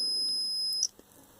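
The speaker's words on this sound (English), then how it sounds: "but I can hear the buzzing." A multimeter's continuity buzzer sounds a steady, high, piercing tone while the switch of a Black & Decker jigsaw is tested, then cuts off abruptly, leaving a faint click and quiet room noise.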